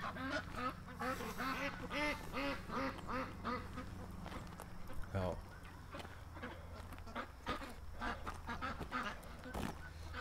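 Duck quacking in a series of loud, nasal, rhythmic calls close by, with goose-like honks mixed in, followed by scattered quieter calls; a person briefly exclaims.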